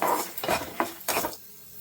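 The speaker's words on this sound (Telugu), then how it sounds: "ఇప్పుడు ఇవి వేయించేసుకుందాం." Seasoning frying in a pan for bottle gourd chutney, stirred with a utensil: a few short scraping and clinking strokes over a light sizzle, close by and with no talk.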